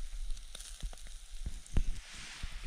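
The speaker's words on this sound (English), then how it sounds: "You can hear it sizzle." Steak sizzles steadily on a grill over a campfire at the Grand Canyon, a soft crackling hiss punctuated by occasional sharp pops and snaps.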